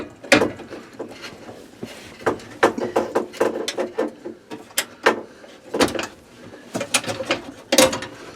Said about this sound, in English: We just unscrew it right here.